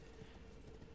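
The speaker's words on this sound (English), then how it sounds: "Add a horse here." Faint rhythmic clip-clop of the spectral steed Torrent's hooves in the Elden Ring video game, a soft, quick gallop under low ambient noise.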